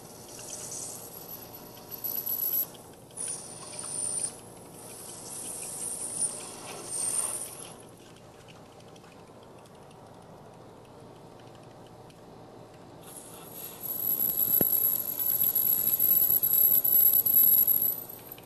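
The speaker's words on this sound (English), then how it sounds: "I've now hit the depth stop, so I've cut all the way through the disc and just into the double-sided tape." A cutter works through a thin aluminum disc held on double-sided tape, giving close, high metallic hissing and ticking in bursts, a quieter stretch, then a longer steady cutting passage.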